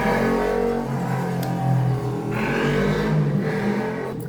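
Motorcycles revving as they pass outside a home in Osasco, a loud continuous engine roar that swells and fades in waves, heard indoors without any talk.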